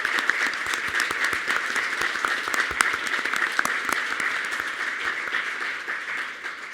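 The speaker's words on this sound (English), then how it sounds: "And a round of applause for all of our candidates." Audience applause for candidates at a political event: many hands clapping in a dense, sustained patter with sharp individual claps, steady for several seconds and tapering slightly at the end, no talk over it.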